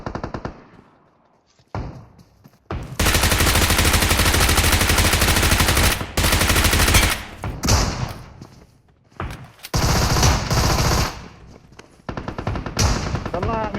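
Gunfire from a shotgun in BGMI, the battle royale mobile game, erupts in several loud sustained bursts separated by brief pauses, with a player talking between them.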